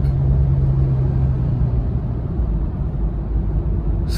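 A car drives on a road toward Manila, giving a steady, loud low-frequency rumble of engine and tires that holds evenly throughout with no talk.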